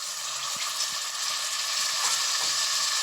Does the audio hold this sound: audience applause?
no